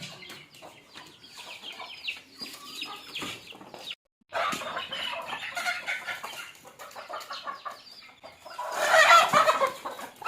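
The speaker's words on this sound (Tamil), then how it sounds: "கொஞ்சம் நாங்கள் நாட்டுக்கோழியும் வளர்க்குறோம்." Country chickens on a farm cluck and cackle in irregular bursts, close by and moderately loud, with a sharper squawking flurry near the end and short pauses between calls.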